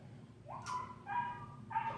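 A dog barks from upstairs in a house, giving two or three muffled, rising yelps and whining barks that sound distant and fairly faint through the ceiling.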